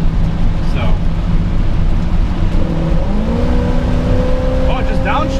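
A car engine downshifting while under way, a loud steady drone with a rising tone change midway, heard from inside the vehicle alongside road rumble.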